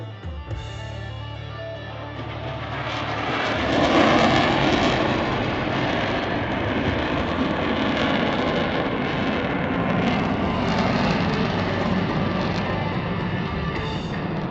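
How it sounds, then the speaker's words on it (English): An F-35A Lightning II jet flies an airshow handling display at the Pacific Airshow on the Gold Coast, Australia, a loud, sustained roar that swells after a few seconds and holds steady. "F35A Lightning II."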